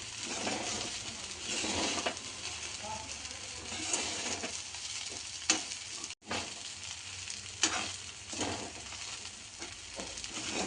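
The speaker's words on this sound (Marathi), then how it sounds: "आता कूट टाकून घेते। चांगला परतून घेते चांगलं।" Peanut powder being sautéed with soaked sabudana in a nonstick pan for fasting khichdi: a steady sizzle with repeated scraping strokes of a spoon, one brief dropout midway, and no talk.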